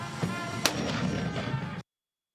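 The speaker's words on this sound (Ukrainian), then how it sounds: "Постріл." A single artillery gun fires with a sharp crack followed by a rumbling roar that lasts about a second before cutting off.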